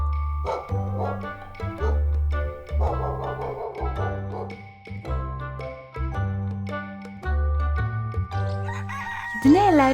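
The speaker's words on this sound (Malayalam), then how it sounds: "ഇത് ഒരു പൂവൻ കോഴി." A rooster crows over a bouncy, rhythmic music backing, with a distinct wavering crow standing out near the end.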